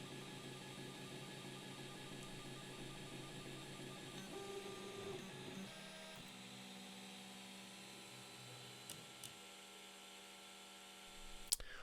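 A budget eBay 3D printer prints a quadcopter rotor arm, giving a steady mechanical whir and hum with shifting stepper-motor tones and a few small clicks near the end, heard close and alone.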